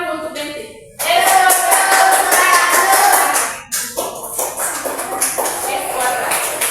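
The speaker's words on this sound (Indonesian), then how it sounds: "Tepuk tangan dulu untuk Benti" Students applaud in a Grade 4 math classroom, a burst of dense clapping starting abruptly and holding steady for several seconds, then breaking into scattered, uneven claps as it dies down.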